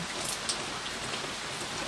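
Steady rain falls and patters on surfaces in a continuous, even hiss with scattered drop taps, heard alone with no talking over it.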